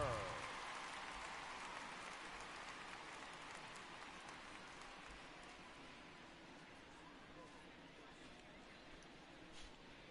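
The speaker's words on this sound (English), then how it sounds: "the rain starting to intensify here" Steady rain falls on a baseball stadium during a game, a dense continuous wash that starts loud and eases slightly, with a faint crowd murmur underneath.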